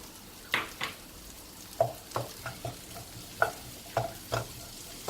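Chili powder stirred into hot oil in a pan for a Tamil ivy gourd fry, with soft sizzling under a run of distinct scraping stirs about every half second, close and moderately loud.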